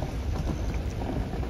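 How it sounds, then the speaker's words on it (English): Steady rain pours down on a farm in Arkansas during flooding, a dense, continuous hiss and patter with a low rumble beneath, constant and fairly close. "I actually don't mind this rain at all."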